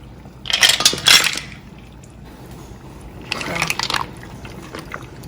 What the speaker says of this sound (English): I'm also going to add in my clams